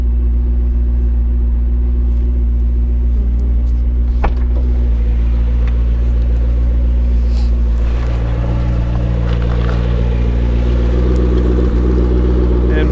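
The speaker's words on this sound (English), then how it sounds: "we can see that it does have a smooth, consistent idle" Engine of a 2012 McLaren MP4-12C idling, a loud, smooth, steady low rumble close by, with a few faint clicks and rustles on top.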